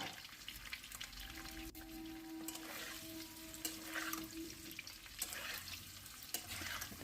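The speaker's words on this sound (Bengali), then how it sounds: "এবার তেলটা গরম হলে এবার আলুর টুকরোগুলো দিয়ে ভালো করে ভেজে নেব।" Boiled potato pieces frying in hot oil in a wok make a low, continuous crackling sizzle with a few sharp clicks and a brief faint tone, quiet and close with no talking.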